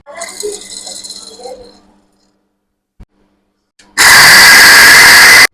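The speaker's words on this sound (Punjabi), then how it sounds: "ਆਜੋ ਆਪਾਂ ਛੋਲਿਆਂ ਨੂੰ ਪੀਸ ਲੈਨੇ ਆ" A kitchen mixer grinder grinding chickpeas into gram flour roars in loudly and abruptly near the end, after some faint talk and a quiet pause.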